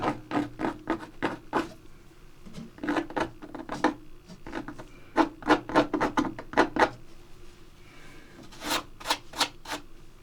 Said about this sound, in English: So I think just scrape a bit of the grass texture out.